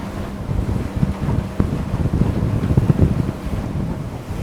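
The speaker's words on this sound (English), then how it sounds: "It's blowing so hard out there." Strong wind roars steadily across the microphone, a constant low buffeting rumble with gusty surges throughout.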